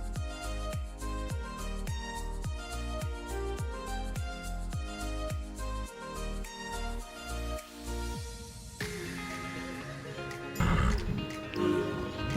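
A horse in the Star Stable Online video game gallops with rapid rhythmic hoofbeats over background music, then a neigh rises near the end.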